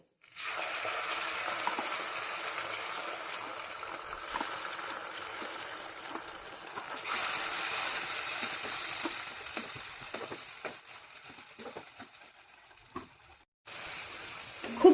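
Mustard and poppy seed paste frying with onion, ginger and garlic in a pan for a pabda fish curry, a steady close sizzle running almost throughout, swelling midway and cutting out briefly near the end.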